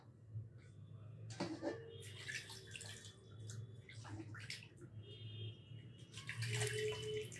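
Water runs from a tap in bursts while skin cream is rinsed off, with splashing gushes starting and stopping several times, fairly close, and a voice speaking faintly in between.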